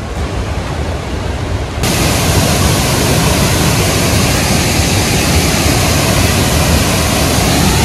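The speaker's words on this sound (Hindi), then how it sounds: "ये है वाटरफॉल, वो देखिए उधर" A fast-falling waterfall at Ripple Waterfalls near Ponmudi Dam in Idukki roars with a dense, steady broadband rush that swells suddenly louder early on and then holds constant, with no voices.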